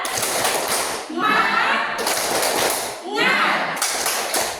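A classroom of children does a rhythmic spirit clap led by their teacher, with bursts of clapping and chanted voices alternating in a loud, close call-and-response pattern.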